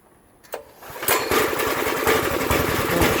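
An Earthquake Victory garden tiller's small engine is started with choke and gas on: a pull-start rattle, then the motor catches and settles into a loud, steady close-up chug.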